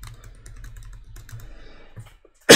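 Keys clatter on a computer keyboard in a brisk run of close taps, slowing into a few scattered presses before a short loud burst at the end.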